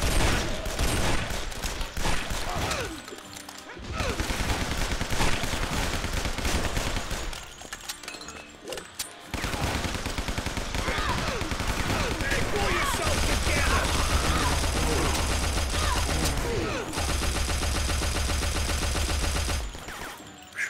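Shotgun blasts and other gunfire in the shooter game Guns, Gore & Cannoli, loud and dense, with repeated bursts under game music, a short lull, then heavy firing again.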